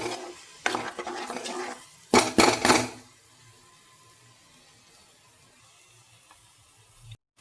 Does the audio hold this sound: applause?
no